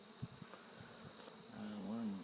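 A low, steady buzz of bees at an open hive that swells toward the end, faint and close, with a few soft knocks early on and no speech.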